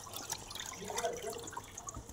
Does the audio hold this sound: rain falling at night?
no